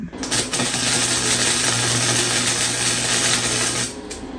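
Tack welding on a trike frame in a workshop: a steady, loud buzzing crackle of the welder runs continuously for about three seconds, close to the listener.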